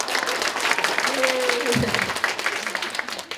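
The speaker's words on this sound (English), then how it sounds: "And now let's clap 20 times." A classroom group clapping on cue, dense applause-like patter filling the whole span rather than distinct countable claps, with a brief whistle or voice tone sounding over it midway.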